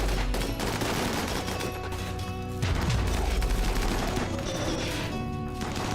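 Rapid gunfire fills a RimWorld colony battle, dense overlapping shots crackling continuously with a heavier boom partway through, loud and close, with no talking.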